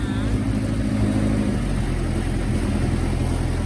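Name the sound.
car engine idling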